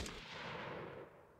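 An AI guard's gunfire in a video game: a quick burst of shots blurring into one continuous crackling rattle that holds steady, then thins slightly as it ends.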